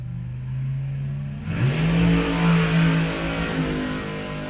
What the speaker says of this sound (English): how tough's that ute driving through the stage, through the start line now?